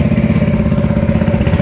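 A small engine running at a steady idle, with an even, throbbing low rumble that stays close and constant, with no voices over it.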